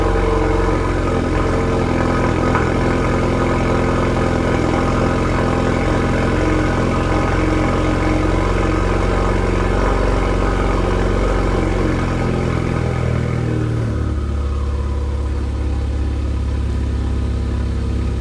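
Close, loud idle from a car running a Sxth Element prototype exhaust: a deep, even rumble that holds steady, then drops to a lower, quieter tone near the end.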